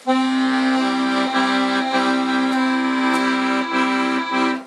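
Sustained, droning accordion bass notes run together smoothly, thick and muddy, played alone at moderate volume.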